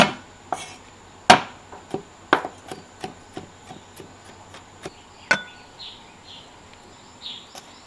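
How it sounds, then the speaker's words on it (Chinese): Garlic being minced with a cleaver on a board, a string of sharp, irregular chopping knocks, some hard and some lighter, spaced unevenly and heard up close. "再来剁点蒜末。"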